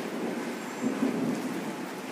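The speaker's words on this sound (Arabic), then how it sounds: "رعد وبرق في السماء جامد جدا جدا، والمطر نازل مطر شديد" Heavy rain pours steadily in Cairo while low thunder rumbles through it, close and continuous.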